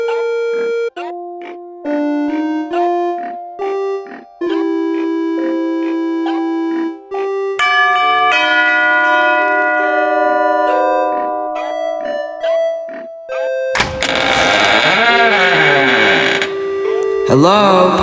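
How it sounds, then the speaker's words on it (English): A bell rung at the entrance to Emerald City in an animated story: a loud, clear run of melodic ringing chime tones that carries on for several seconds, ending in a brief noisy, distorted burst. "Who rang that bell?"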